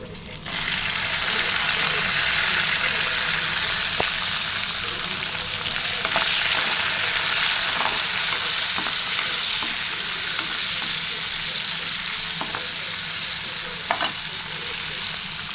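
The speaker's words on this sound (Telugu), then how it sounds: "ఇప్పుడు మనం పచ్చిమిర్చి, ఉల్లిపాయ, వెల్లుల్లి, కరివేపాకు వేసేద్దామండి." Green chilies, onion, garlic and curry leaves fry in hot oil with a steady, loud broadband sizzle and occasional stirring clicks, continuous after a brief quiet start, no voices, for a broad bean curry.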